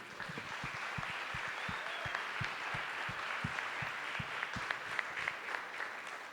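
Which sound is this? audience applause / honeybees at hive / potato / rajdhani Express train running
audience applause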